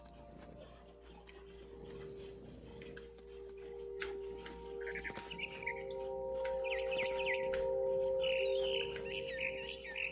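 A bird chirps repeatedly in the video game What Remains of Edith Finch, with bright tweets emerging over a sustained tonal music bed and soft ambience in the second half.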